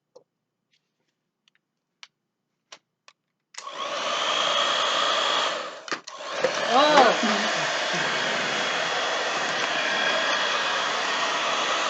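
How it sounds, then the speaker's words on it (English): A few sharp clicks, then a hair dryer switches on and blows steadily and loudly at a small straw house, briefly dipping before resuming its constant roar; a voice gives a short exclamation. "see how that holds up to our hair dryer and see if it's able to blow the house away."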